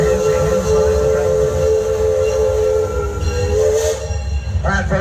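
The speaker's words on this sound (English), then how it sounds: "we opened up the little mini mine train ride just for you" Mini mine train amusement ride rolling along, a loud continuous rumble of wheels on track with a steady tonal hiss and whistle-like tone, with brief rattling near the end.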